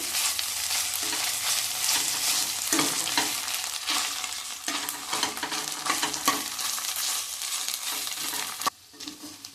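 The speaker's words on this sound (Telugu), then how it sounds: "ఒక స్పూన్ అల్లం వెల్లుల్లి పేస్ట్ వేద్దామండి ఈ పచ్చివాసన పోయే వరకు ఫ్రై చేసుకోవాలి" Ginger garlic paste fries in a hot pan with a loud, steady sizzle and repeated scraping stirs of a spatula, ending with a sudden drop near the end, no voices.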